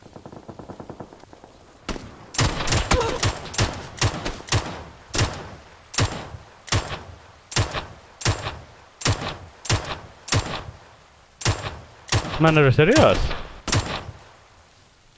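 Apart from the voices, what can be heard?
gunfire in a shooter video game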